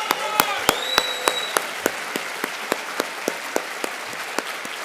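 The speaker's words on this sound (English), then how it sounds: "I really want you guys to give a hand of applause for my mom, Reider" Audience applause at the opening session of the Union World Conference on Lung Health 2025, broad crowd clapping with distinct sharp claps standing out, plus a brief tonal whistle near the start.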